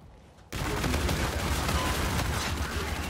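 Rapid pistol gunfire in the shooter video game Call of Duty: Infinite Warfare, a dense, loud run of shots that starts abruptly after a brief quiet moment and keeps up without a break.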